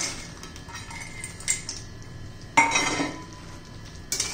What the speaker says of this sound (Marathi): व्यवस्थित मिक्स करून घ्यायचे आपल्याला